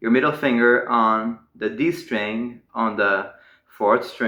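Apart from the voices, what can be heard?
None of the usual background noises is heard.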